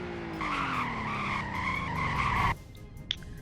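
A fairly large car in a driving video game brakes hard, its tires squealing loudly and steadily for about two seconds under engine rumble before cutting off abruptly, followed by a brief faint click.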